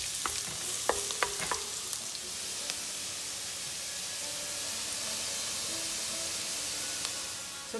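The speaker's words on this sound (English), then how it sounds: "first I'm adding nicely finely chopped garlic, and I'm going to fry it until it turns nice and brown" Finely chopped garlic frying in a hot pan, a steady close sizzle with a few sharp stirring clicks early on and a faint hiss throughout.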